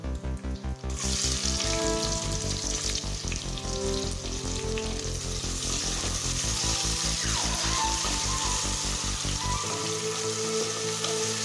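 Two large, lengthwise-sliced onions fry in a pan for jeera pulao, giving a dense, steady sizzle and crackle that runs loud and close throughout, with a faint rhythmic thumping underneath.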